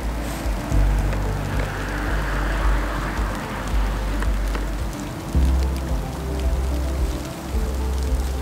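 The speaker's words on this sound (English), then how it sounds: "it's kind of raining" Rain falls steadily on an open golf course, a dense, continuous hiss of drops with small louder patters, close and even throughout with no voices.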